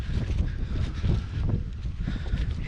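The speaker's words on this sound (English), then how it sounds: "Yeah, it's getting quite blustery." Blustery wind buffets the microphone outdoors on a farm at harvest, a steady close roar of rumbling gusts with no voices.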